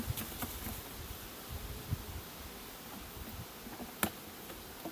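Honeybees buzz faintly around an opened hive in an apiary while weak colonies are being merged, a soft low hum with light ticks and rustles and a sharper knock near the end.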